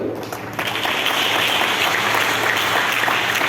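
Audience at a memorial and sacrifice-day gathering breaks into sustained applause, a dense, steady wash of many hands clapping that swells quickly and holds loud throughout.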